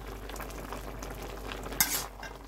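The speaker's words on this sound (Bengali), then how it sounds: "নাড়াচাড়া করে আবার একটু মিশিয়ে নেব" Greens-and-fish curry seasoned with coriander powder gets stirred in a pot, a soft continuous scraping with a faint simmer, then one brief brighter clatter of the spoon near the end.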